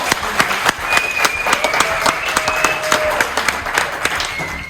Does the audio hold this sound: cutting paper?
no